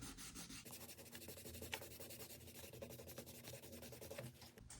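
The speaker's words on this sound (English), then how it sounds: "you can just take your cloth and just kind of set it up on there and burnish it that way" A leather edge on the jaws of a stitching pony is burnished with a cloth, giving a close, continuous scratchy rubbing that keeps going without pause.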